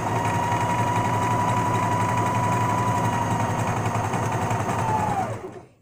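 Sewing machine stitching slowly and steadily, a close, even mechanical whir with fast rhythmic needle ticking that runs for several seconds and then stops.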